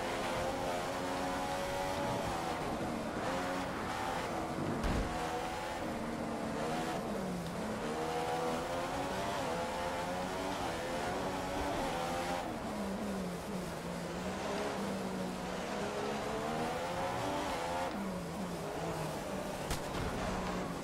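Formula 1 cars racing around Monaco in the F1 2015 video game, with a loud onboard engine whining up and down through gear changes and occasional brief tire squeals, continuous and with no speech.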